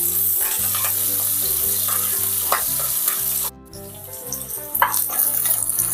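Onions and cashews frying in a pan while a spoon stirs them, with steady sizzling, clinks and scrapes of the utensil, and a brief pause before the sizzle resumes.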